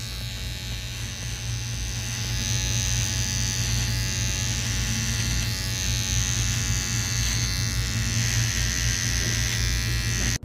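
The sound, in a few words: VGR V-082 cordless trimmer cutting beard hair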